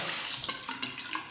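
Hot water runs from a tap in a quiet gurgling stream, splashing and shifting briefly as a Parker 45R razor passes through it.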